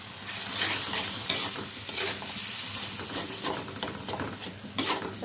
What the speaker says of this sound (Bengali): কার্পু মাছের ডিমটা দিয়ে দিলাম।